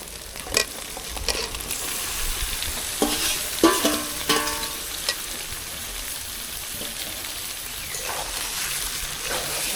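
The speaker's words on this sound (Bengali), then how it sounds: "মশলা থেকে তেলও হয়ে গেছে দেখুন এবার ভেজে রাখা চিকেনগুলো দিয়ে দেব" Pre-fried chicken pieces are tipped into oil-glossed frying spices for coriander chicken and stirred. Loud sizzling carries through, with a few scraping knocks of the spoon early on, heard close with no talk.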